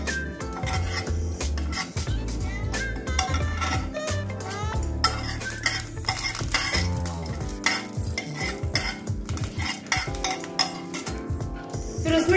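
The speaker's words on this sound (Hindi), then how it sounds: "इसमें हम डालेंगे थोड़ा जीरा, फिर उसे थोड़ा सौते करेंगे।" Cumin sautéed in a pan, with busy metallic clatter and scraping of a utensil against the pan over a light sizzle, continuous and close.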